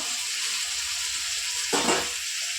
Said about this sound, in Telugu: టమాటాలు వేస్తున్నాను నేను ఒక ఆరు టమాటాలు వరకు వేసుకుంటున్నాను